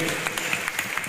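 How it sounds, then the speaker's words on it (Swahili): An audience at a young entrepreneurs' event at a university claps in a steady, close patter of many hands, a brief burst with no pause. "Wapi makofi? Makofi."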